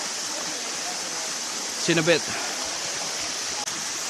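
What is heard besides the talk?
waterfalls and flowing stream, Gembleng Waterfalls, Bali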